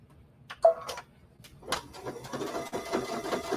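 A sewing machine stitches along the inside of a stitch line on a fabric bowl cozy, short rapid mechanical runs after a few clicks, fairly faint and close.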